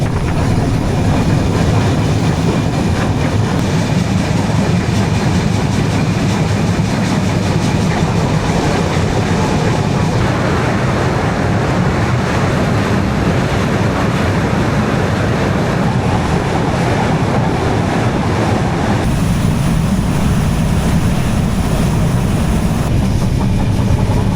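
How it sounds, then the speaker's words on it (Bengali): The Padma Express rolls along the rails at night, gathering speed in a loud, continuous rumble with faint rhythmic clatter. It is heard from on board, with no talk, and the tone shifts slightly near the end. "এবার কিন্তু ট্রেনে আস্তে আস্তে বেশ জোরে গতি উঠে যাবে"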